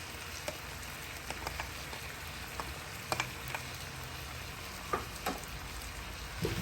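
Bok choy and carrots stir-frying in a pan, giving a soft, even sizzle with scattered light clicks and scrapes of stirring throughout.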